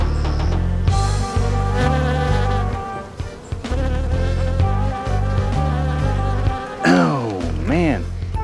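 A bee buzzes close by in a natural outdoor setting, its droning hum rising and falling and shifting pitch as it moves about, heard under a steady low background.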